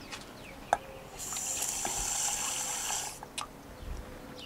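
Filtered water is poured for transplanting plants, a steady hissing stream lasting about two seconds, close and moderately loud, with small knocks just before and after.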